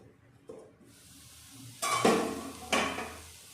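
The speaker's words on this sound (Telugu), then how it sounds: "సో మూత పెట్టేసుకుందాం." A lid goes onto a pan of frying tindora curry with two sharp metallic clanks, one after the other, over a quiet background with faint earlier pan noise.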